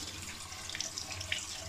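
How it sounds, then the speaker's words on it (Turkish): Cleaning liquid runs over the propeller of a combi boiler fan motor, a soft, close, steady trickle and splash with faint drips and no talk. "Birazdan da porçöz dökeceğim buna."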